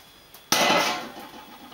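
A single heavy cleaver chop lands on pork, beef and chicken on the bone, a sharp loud impact with a clinking ring that decays over about a second, preceded by a faint tap.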